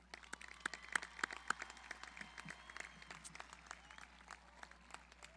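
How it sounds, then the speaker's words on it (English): Scattered applause from a graduation audience seated in outdoor stadium bleachers, sparse and faint claps spreading out with distance, with no speech over them. "Let's give them a round of applause."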